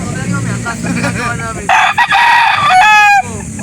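A rooster crows loudly and close by at a livestock market in Calauan, Laguna, Philippines, with clucking chickens in the background before the long crow.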